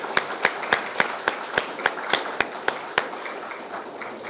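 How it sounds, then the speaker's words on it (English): Sparse, slowing applause from an audience at a Tampa city birthday celebration, with a few distinct claps spaced out in a loose rhythm before thinning into a soft wash of scattered clapping, close and moderately loud. "let's give them another great round of applause"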